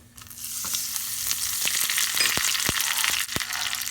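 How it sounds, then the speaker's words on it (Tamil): Mustard seeds, urad dal, dried red chilli and curry leaves sizzle in two spoons of hot oil in a small tempering ladle for kulambu, a steady frying hiss with sharp crackles and pops. "இப்போ குழம்பு தாளிக்கிறதுக்கு ஒரு தாளிப்பு கரண்டி வச்சுருக்கேன். 2 ஸ்பூன் ஆயில் ஊற்றிடலாம்."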